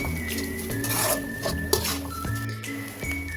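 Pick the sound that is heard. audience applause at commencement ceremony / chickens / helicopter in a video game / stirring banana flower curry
stirring banana flower curry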